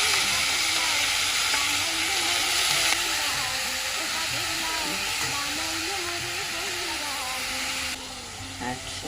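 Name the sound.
bottle gourd (lauki) frying in oil with cumin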